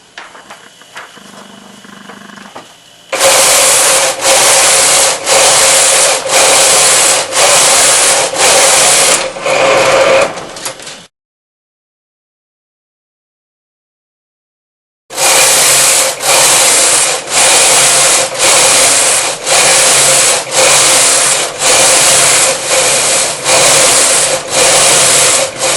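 Brother KE-100 knitting machine with its motor drive running the carriage back and forth: loud, close, rhythmic sliding strokes repeat at a steady pace, stop for about four seconds of silence, then resume with the same regular passes.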